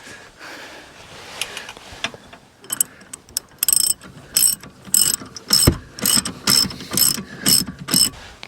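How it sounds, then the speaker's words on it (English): A ratchet wrench tightening the bolt of a CyberRack E2 ebike hitch rack in a hitch receiver, heard close and loud as a steady series of sharp clicking bursts, about a dozen regular strokes following a few softer clicks. "when you bolt this into your hitch receiver, you can tighten it up"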